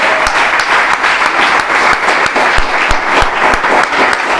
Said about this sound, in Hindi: एक बार ताली बजाएंगे सेवक भाई के लिए